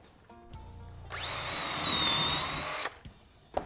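A power drill bores a hole in a workpiece clamped in a bench vise, its motor whining up to a steady high-pitched drone for nearly two seconds before cutting off, followed by a few clunks of handling.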